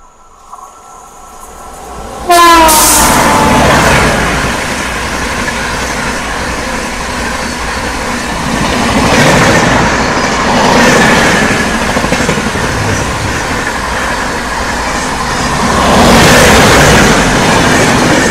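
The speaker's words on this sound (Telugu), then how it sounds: "నాగ్పూర్ సికింద్రాబాద్ వందే భారత్ ట్రైన్ అయితే వస్తుంది" The Nagpur–Secunderabad Vande Bharat express roars past close by after a quiet build-up, arriving abruptly with a horn and then a loud, sustained rush of wheels and wagons that swells and eases over many seconds, with no talk.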